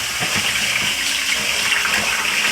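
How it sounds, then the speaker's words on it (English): Parboiled rice is washed under rushing water, a steady, loud gushing and splashing that runs continuously for a few seconds before stopping abruptly. "Next, I'll wash 3 cups of parboiled rice."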